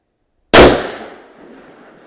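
Single loud rifle shot fired at a 1,000 yard target, a sharp blast after a short silence with a reverberant tail that decays over about a second and a half.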